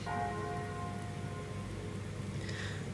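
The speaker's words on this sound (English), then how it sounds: "Oh, rain. I don't know why I've got rain." Steady rain patters continuously at moderate distance under a low hum and a few faint tonal lines; no one speaks.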